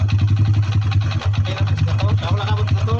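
A Honda W100 motorcycle engine idles loudly up close with a rapid, uneven rhythmic knocking, steady throughout, from a worn timing chain.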